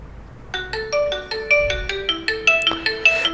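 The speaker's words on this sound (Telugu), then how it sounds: "ఇక్కడ అయితే ఒక రింగ్ టోన్ అయితే ప్లే చేస్తున్నాను" A bright electronic ringtone plays from the bottom loudspeaker of a Redmi 9A phone, a repeating melody of quick chiming notes growing slightly louder, heard alone in a quiet room.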